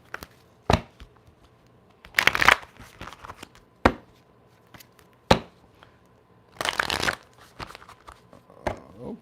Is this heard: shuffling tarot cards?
yes